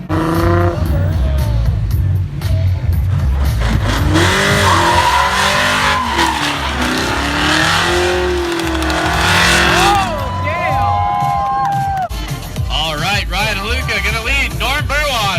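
A Nissan drift car in competition roars at full throttle with screeching tire squeal and skidding, loud and close, while a commentator talks excitedly over the engine noise throughout.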